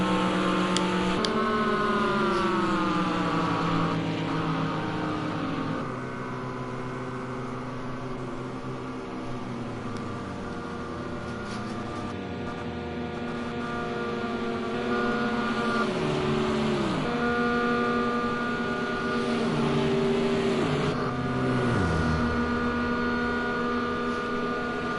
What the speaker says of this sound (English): Listen to the revs. He's pretty much reached the maximum on his engine.